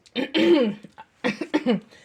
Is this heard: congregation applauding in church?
no